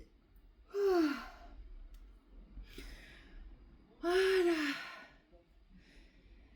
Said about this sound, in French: Ça baille, c'est chouette, c'est très très bien.